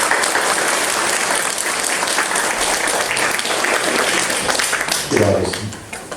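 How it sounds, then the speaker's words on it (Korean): A church congregation claps during an Easter worship song, a continuous wash of hands from many people, with voices and singing mixed in and a louder shout near the end as the clapping eases. "우리 박수가 하나님께 영광 드립니다."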